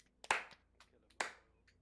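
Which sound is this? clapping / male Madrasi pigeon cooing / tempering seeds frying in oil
clapping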